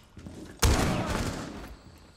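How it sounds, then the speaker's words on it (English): A single loud, close shotgun blast booms in Rainbow Six Siege, followed by a decaying rumble and faint game noise. "Shotgun to the face."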